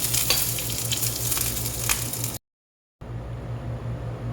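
Butter sizzles in a hot frying pan over medium heat, a loud, dense crackling hiss close by that runs steadily, breaks off briefly, then resumes.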